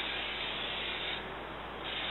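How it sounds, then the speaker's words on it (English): A spray can applies lacquer sealer to a guitar body in a steady, close, continuous hiss that barely changes across the pass. "We're going to begin the spray off the body, continue it through, stop it off the body."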